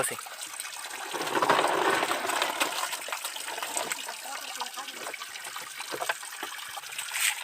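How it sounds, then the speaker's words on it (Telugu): Water pours and splashes while wild prawns are washed in a net, a continuous close trickling and gushing lasting several seconds, with faint voices at times. "వలలో పోసుకొని మనమైతే క్లీనింగ్ చేసుకుందాం."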